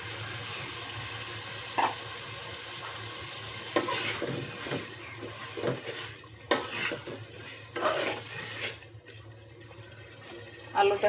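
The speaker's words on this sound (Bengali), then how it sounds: "এখন আলু দিয়ে দিব।" Potatoes are stirred into a hilsa fish curry with tomato and eggplant frying in a pan, a steady low sizzle with several louder scraping stirs and clatters, no talk.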